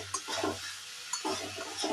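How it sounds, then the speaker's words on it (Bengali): Boiled potatoes with spices are fried and stirred in a pan, with two short bursts of scraping and sizzling up close, separated by a brief pause. "এবার আমি মশলা আর আলু দুটোকে একসঙ্গে ভালো করে কষিয়ে নেবো।"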